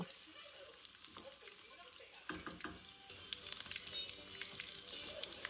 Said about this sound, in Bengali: এলাচি, দারচিনি, তেজপাতা, লবঙ্গ এবং গোলমরিচ দিয়ে পেঁয়াজ অ্যাড করে আমি এটাকে ভালোভাবে ব্রাউন করে নিব